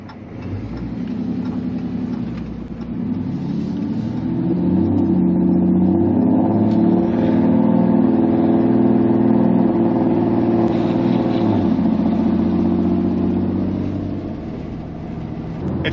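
A deleted 6.7 Cummins diesel in a 5th gen pickup accelerates while driving, a steady loud low engine drone that swells through the middle and eases near the end, with no talking.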